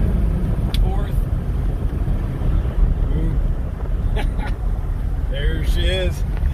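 A 1959 Cadillac on the move, heard as a steady low engine and road rumble with heavy wind buffeting throughout, while a voice talks over it at intervals.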